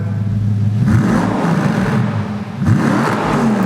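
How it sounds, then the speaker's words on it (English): High-mileage Audi R8 V8 revving hard through its exhaust, close and loud, with two rising bursts of revs separated by a brief dip, no talking. "Let me just cut to a revving shot of it now."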